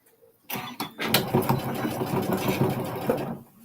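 A sewing machine stitching runs steadily at close range after a quiet start, a continuous mechanical whir with a few sharp clicks near the beginning, then it stops just before the end.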